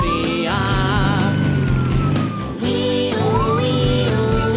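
Police car siren inside a children's song, its rising and falling wail running continuously over bouncy music, loud and prominent from start to finish with a brief dip near the middle.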